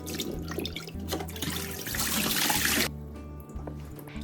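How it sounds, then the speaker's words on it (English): Baby potatoes are washed under a running kitchen tap, with water splashing and rushing into the sink for a few seconds before the flow cuts off abruptly, close and alone. "First, wash the baby potatoes well."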